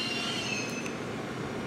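A Tobu Nikko Line local train runs between Tobu Nikko and Kinugawa Onsen, heard from inside as a steady, fairly quiet rumble with a faint high wheel squeal.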